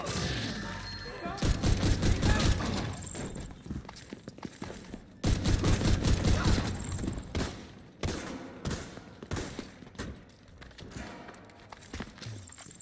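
Rapid gunfire from a shooting video game, with loud bursts of rapid fire and a few pauses between volleys, mixed with other in-game sounds.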